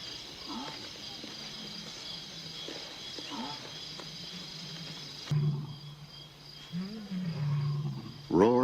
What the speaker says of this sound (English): Roars in the night can mean danger for the pride.